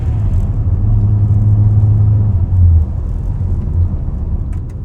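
A Mazda RX-7 FC rotary engine idles with a steady low rumble and a slightly uneven throb, heard close up with no talking.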